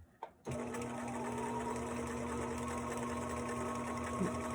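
A sewing machine stitching a stretchy T-shirt pillow, starting after a brief pause and then running as a steady, close mechanical whir with a constant hum until the end.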